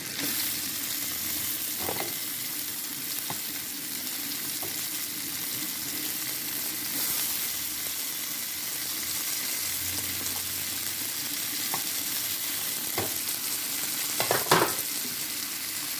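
Onions, green chillies, garlic cloves and coriander leaves sizzle steadily in hot oil in a home kitchen pan, a continuous bright frying hiss with occasional stirring scrapes and soft clinks, no talking.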